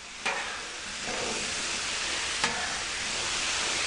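Potatoes sizzling on a Camp Chef flat top grill, a steady broad hiss of frying close by, broken by a couple of sharp scraping taps of a spatula.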